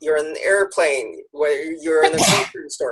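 A single sneeze bursts out near the end of a talk about expressing anger, coming sharply and loudly right after someone speaking about behaviour in public places.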